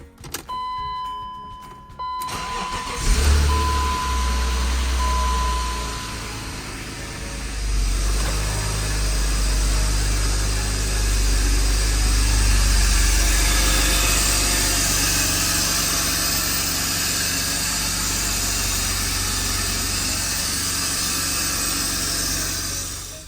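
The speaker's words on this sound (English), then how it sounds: "Start it up real quick. See how she runs." A BMW E36 drift car engine cranks briefly and fires, then settles into a loud, steady idle up close after a fresh valve cover gasket, with a rough, rumbling tone that continues alone.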